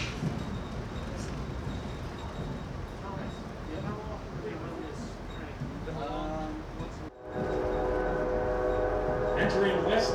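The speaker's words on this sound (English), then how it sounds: "the train sounds the horn for the Lee Street and Main Street grade crossings" A train horn blares in long sustained blasts over rumbling rail noise at a grade crossing, loud and close, after a brief dip in the sound; Reading Blue Mountain & Northern F-unit locomotive.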